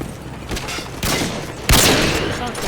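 Loud, dense bursts of rapid automatic gunfire fill a video game firefight, arriving in heavy overlapping volleys that grow more intense toward the end.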